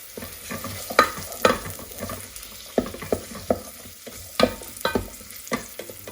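Onions fry in an electric pressure cooker pot under a low steady sizzle, punctuated by irregular close scraping knocks as they are stirred, with no speech.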